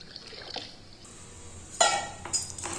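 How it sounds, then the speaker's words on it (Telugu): Water poured into a pan of cut okra pieces, a short bright splashing pour near the end after light clinks of the pan, close and fairly quiet with no talk. "వాటర్ అనేది యాడ్ చేసుకోండి"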